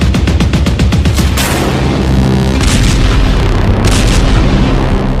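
Anti-tank missile attack in the Hezbollah–Israel fighting, heard as loud booming blasts with rapid repeated impacts at the start, then rumbling explosions echoing heavily, no talk.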